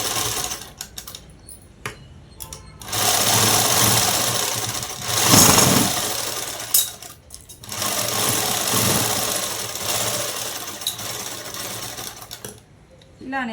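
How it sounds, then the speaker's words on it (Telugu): An electric sewing machine stitches fabric for a collar-neck dress in several bursts of rapid mechanical whirring, stopping and restarting, with someone talking during the pauses. "ఇలా కుట్టు అనేది వేసేసుకోవాలి."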